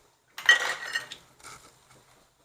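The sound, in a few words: roasting sesame seeds in a pan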